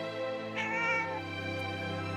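A single drawn-out cat meow rises and then trails off, close and clear over a steady low hum in a quiet hallway.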